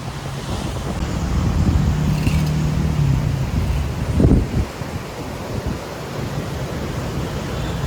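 Strong wind buffets the microphone on a beach in Nha Trang, Vietnam, with ocean waves rolling and crashing close by in a loud, continuous rush.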